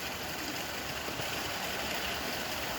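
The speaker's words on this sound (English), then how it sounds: "And this is a river that comes down from the hills" River flowing down from the hills near Bo Kluea in northern Thailand, a steady, close hiss of rushing water without voices.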